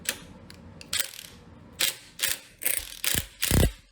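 Impact wrench fitted with a 3/4 inch socket, taking apart a modern 5.7 Hemi engine in a garage, firing in about seven short, loud rattling bursts separated by brief pauses.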